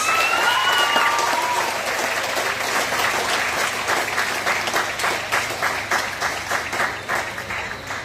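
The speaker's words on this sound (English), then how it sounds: "I would like for you to join me in giving a rousing round of applause for our spectacular faculty members" A graduation audience gives sustained applause for faculty members at a school valedictorian ceremony, a dense, even round of clapping that gradually loosens into distinct claps as it fades.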